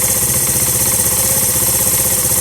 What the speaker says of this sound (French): Donc le régime moteur se stabilise.